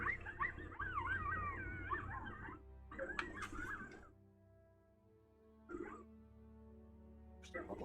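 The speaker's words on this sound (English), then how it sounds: "There's a bunch of puppies somewhere that are yapping." A bunch of little puppies yapping and whimpering with high squeaky barks in bursts, close and fairly loud, pausing briefly before starting up again.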